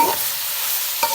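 A spoon stirs turmeric into minced meat frying in a pan for capsicum keema, a short soft sizzle with scraping strokes at the start and end.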